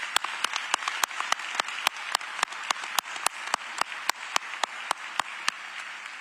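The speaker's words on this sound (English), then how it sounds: "Please join me in giving our training unit one more round of applause." An audience at a police academy graduation ceremony claps in a steady, sustained round of applause, individual sharp claps standing out close by over a dense wash of more distant clapping.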